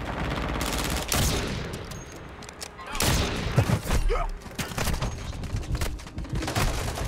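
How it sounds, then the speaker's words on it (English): Dense gunfire from a first-person shooter game: rapid bursts and single shots crowd together throughout, with loud blasts near one and three seconds and steady automatic fire continuing after them. "Dude, like I'm getting shot by the whole game."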